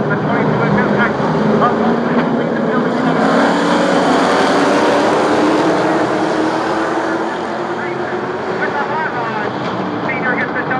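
A field of hot rod race cars at Sunset Speedway roars off at the feature start, engines swelling together and climbing in pitch as they pull away, with announcer commentary underneath.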